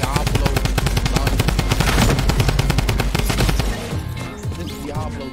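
Rapid, evenly spaced shots from the Diablo gun in the Fortnite video game ring out loud and close for several seconds, then break off into scattered quieter in-game sounds.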